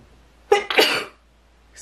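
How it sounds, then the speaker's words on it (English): A person sneezes close by in a quiet indoor setting: two quick, forceful bursts of breath in a row, then near silence. "I got a sneeze coming."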